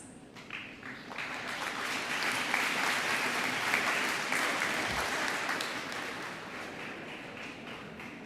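An audience applauds at a 2023 Detroit Mercy dental white coat ceremony for a dental hygiene class. The clapping is sustained and fairly even, building briefly at the start and then holding steady throughout.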